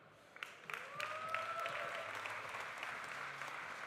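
Applause from an audience at the Swiss Coffee Festival 2023 starts with a few scattered claps, then swells into soft, steady clapping. It sounds somewhat distant and fairly faint.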